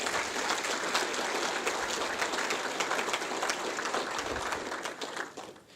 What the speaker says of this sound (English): If we get a round of applause to all these sponsors,